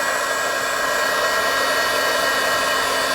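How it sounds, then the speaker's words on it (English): A handheld heat tool blows steadily to dry paint on a mixed media card, a loud, constant whooshing roar close by that holds level throughout with no voices over it. "So I am going to take out my heat tool, so it's going to get noisy for just a second"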